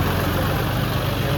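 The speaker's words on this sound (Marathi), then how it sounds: "हे ट्रॅक्टरने नेत आहेत." A tractor engine idles and chugs steadily nearby on a flooded street in Nalasopara, a low, continuous rumble filling the brief moment.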